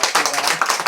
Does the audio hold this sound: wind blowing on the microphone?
no